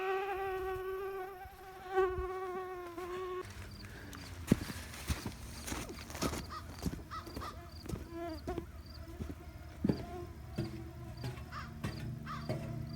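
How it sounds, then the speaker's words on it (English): Mosquitoes whine near the ear at a park beach, a steady high buzz at the start, followed by scattered clicks, thumps and rustling close by. "Gah, fucking mosquitoes."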